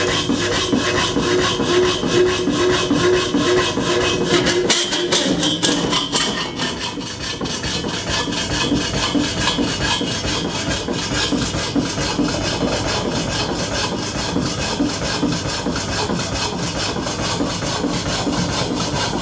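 A Rapidor Major power hacksaw, or donkey saw, runs and cuts with a steady, rhythmic back-and-forth rasping stroke, loud and continuous for the whole stretch, briefly shifting in tone partway through.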